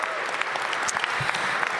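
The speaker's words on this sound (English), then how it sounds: "Give them a round of applause." An arena audience breaks into steady, dense applause for the Washington Wizards players at a Capital One Arena announcement event, loud and sustained throughout with no break.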